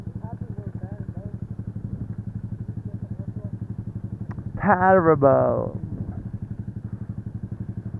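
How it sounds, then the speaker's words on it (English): A Yamaha YZF R125 motorcycle engine drones steadily and loudly from onboard throughout, a continuous pulsing hum under voices, with a brief louder burst of talk partway through. "A two-stroke is killing your ears, boy."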